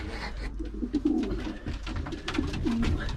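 Racing pigeon cooing, a proven sprint racer now kept as a breeder, with several soft low coos rising and falling among other birds in a loft, fairly close and steady throughout.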